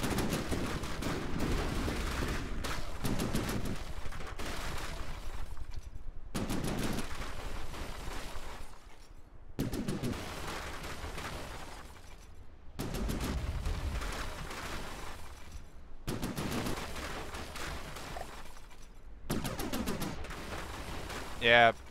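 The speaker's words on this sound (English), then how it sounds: "my side-mounted autocannon can keep firing at it" A side-mounted autocannon in the video game FTD fires in sustained bursts of rapid shots, loud and dense, separated by brief pauses, repeating for about twenty seconds.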